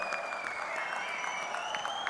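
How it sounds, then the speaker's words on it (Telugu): Steady applause from a large audience at a political party gathering, a dense, continuous clapping that holds evenly for the whole stretch, with no speech on top. "గట్టిగా చప్పట్లు కొట్టి మనస్ఫూర్తిగా అభినందించండి"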